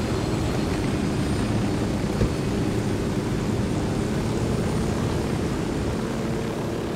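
An airplane in the video game Ghost Recon Wildlands gives off a steady, fairly quiet engine drone that holds evenly throughout with no talk over it.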